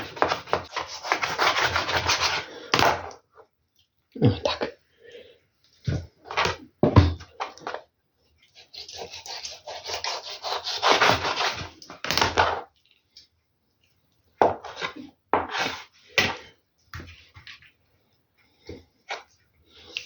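A knife cuts chicken wings on a cutting board: long rasping strokes and short sawing bursts with pauses between, close and fairly loud.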